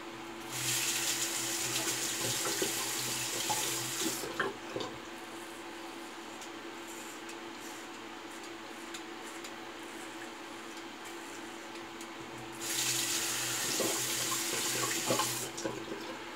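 A bathroom tap runs cool water for shaving, a steady gush that starts, shuts off for a stretch, then comes back on near the end; close and fairly quiet, with no talking.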